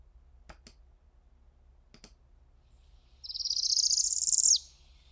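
A recorded song of a male Northern Parula plays: a fast, buzzy ascending trill of about a second and a half, ending in an abrupt upward snap, after a few faint clicks and near silence.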